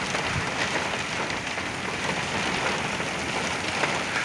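Heavy rain from a derecho storm in Oklahoma, pounding steadily with gusty wind, a dense, loud, continuous wash of noise heard from a truck.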